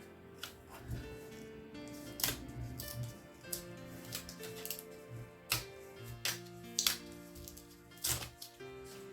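Scissors or a blade cutting paper while assembling an organization board: a series of sharp, separate snips and crisp cracks spread over several seconds, close by, above soft background music.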